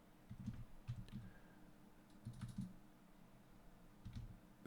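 Keys clacking on a computer keyboard as a Linux command is entered, arriving in short quick bursts with pauses between them, close by and faint, with no talking.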